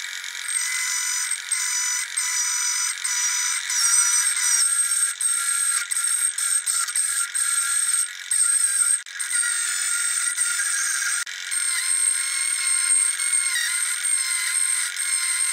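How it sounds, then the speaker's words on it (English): A Dremel rotary tool makes repeated passes shaping a homemade branding iron for marking wood, giving a continuous high-pitched whine with brief dips and scraping grit, close and steady throughout. "We're going to use our Dremel tool, and we're just going to make passes until we get to"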